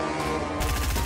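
Rapid gunfire in Fortnite, a loud, dense rattle of shots that intensifies halfway through the second-long burst, with no voices.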